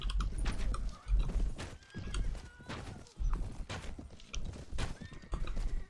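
Horses in a video game stamp along with clip-clop hoofbeats and repeated whinnies, a busy close mix of hooves and neighs rising and falling in waves without speech.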